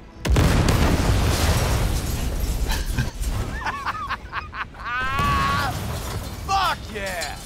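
A grenade detonates in Cyberpunk 2077 with a loud burst amid clattering game mechanisms, while voices talk over the action.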